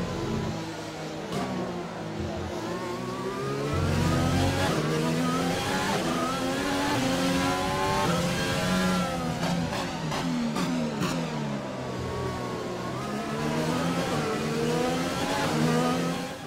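F1 car engine in the racing game F1 2020, a high-pitched screaming whine that climbs and drops repeatedly through gear changes, loud and continuous with no talking.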